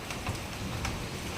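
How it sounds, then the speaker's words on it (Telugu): Rain falls outdoors in Mancherial, a steady, moderate patter with a few sharper drop ticks, continuous and fairly close, with no one speaking. "ఫుల్ వర్షం పడుతుంది."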